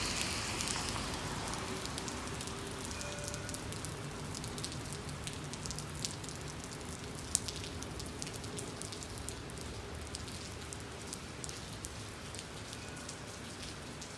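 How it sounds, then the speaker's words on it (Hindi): Heavy rain pours down in a dense, steady hiss of drops hitting surfaces, unbroken throughout with no voices. "बहुत तेज़ बारिश हो रही है।"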